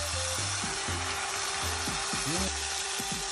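Chicken sizzling and frying in a pot with whole tomatoes for butter chicken curry, crackling steadily while a utensil stirs and scrapes; a voice talks over it.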